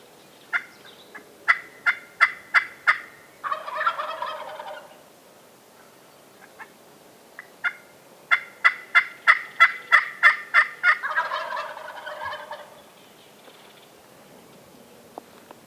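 Two bursts of wild turkey gobbling on public hunting land, each a rapid run of sharp, rattling notes ending in a burbling trail, with a couple of softer calls from hens and jakes between. No talking.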